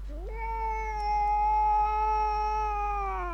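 A single cat gives a long, drawn-out caterwaul with a rising start, then a steady, strained yowl held for about three seconds, close and clear over a low hum.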